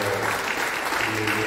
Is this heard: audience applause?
yes